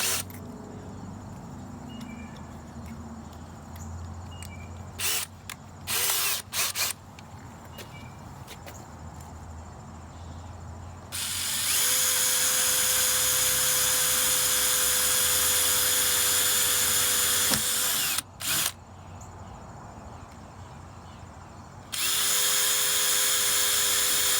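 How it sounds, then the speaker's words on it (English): Power drill boring pilot holes in the metal body of a 2017 Nissan NV2500 van, several short bursts of whirring and then two long sustained high-pitched drilling runs, loud and close over a quiet background. "Now I'm just going to drill a couple of pilot holes in there"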